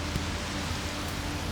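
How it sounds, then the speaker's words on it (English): Rain falling outdoors, a dense steady hiss of drops with no breaks, close and even throughout the short stretch, no voices. "It's raining here."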